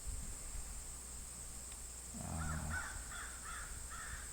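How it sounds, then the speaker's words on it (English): A crow in New Hampshire caws outdoors, a short series of harsh calls partway through, over faint insect chirring and a quiet steady hum. "You hear that crow?"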